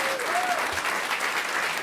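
A round of applause from an audience after a conversation event with a chef and food activist, a continuous, even wash of many hands clapping at moderate distance.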